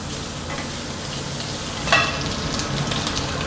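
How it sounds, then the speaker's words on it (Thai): Steady frying sizzle of garlic in a hot pan, a continuous crackling hiss with a brief louder burst partway through as it is stirred. No voices. "โจกผัดมาจนสังเกตนะครับ กระเทียมเริ่มเหลืองแบบนี้แล้วนะครับ"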